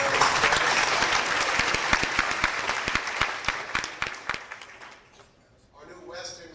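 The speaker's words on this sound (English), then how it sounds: "let's give Chuck a round of applause" Applause from an awards-ceremony audience at the 2000 Hugo Awards, a dense wash of clapping that swells and then thins into scattered claps before fading, with a brief bit of talk at the end.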